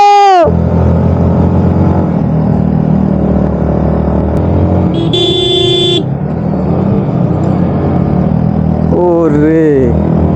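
A vehicle engine labours steadily up a steep mountain road toward Sajek Valley, a loud continuous drone with horn toots at the start, in the middle and near the end.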